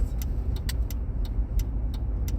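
A car rolling through light early-morning traffic, with a steady low road rumble and a series of faint, evenly spaced ticking or clicking sounds inside the cabin.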